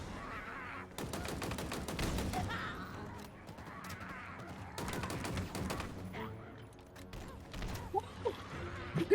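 Gunfire in a Halo video game battle against hunters and grunts: rapid bursts of automatic fire in several sustained volleys with gaps between them, under quiet talk among players.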